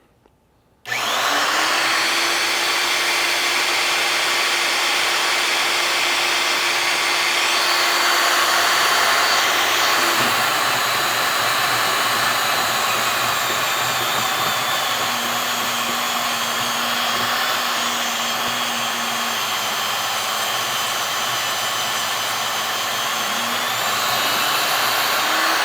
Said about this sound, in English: We're going to turn our planer on